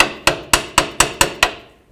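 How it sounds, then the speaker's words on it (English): A small hammer taps a parking brake shoe into place on a 1999-2007 GMC Sierra, six sharp metallic strikes at an even, quick rhythm, close and clear, each ringing briefly before the next. "You can use a little hammer to help it go down."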